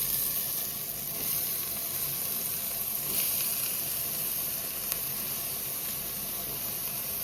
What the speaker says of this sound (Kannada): ಆಗ್ಲೇ ತಟ್ಟೆಯಲ್ಲಿ ಇಟ್ಕೊಂಡಿದ್ವಲ್ಲ ಸೊಪ್ಪು, ಅದನ್ನ ಇವಾಗ ಒಗ್ಗರಣೆಗೆ ಹಾಕ್ತಾ ಇದೀವಿ ನೋಡಿ